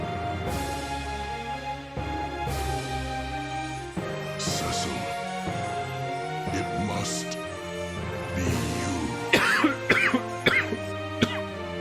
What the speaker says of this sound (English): I meant to mute my mic to cough